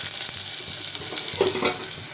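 Onions and garlic with cumin seeds frying in a hot pan, a close continuous sizzle with a brief louder crackle of stirring partway through.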